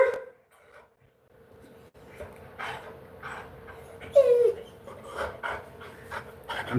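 An adult deaf dog pants close by in soft, quick breaths, with a few faint shuffles and a brief higher whine midway, quiet and intermittent against a low background hum.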